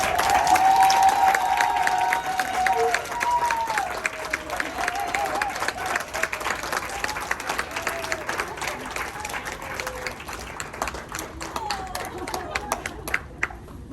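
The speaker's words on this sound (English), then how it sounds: "let's give our fearless leader a round of applause" A crowd applauds and cheers a departing leader as she makes her way down, with loud dense clapping that gradually thins into scattered individual claps alongside chatter and talking voices.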